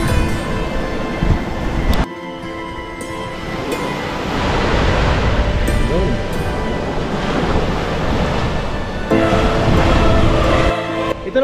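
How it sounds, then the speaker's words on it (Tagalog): Large ocean waves crash and surge in a continuous loud roar at Baybay Norte beach in Sual, Pangasinan, with wind buffeting the microphone. "Umalaki na yung alon."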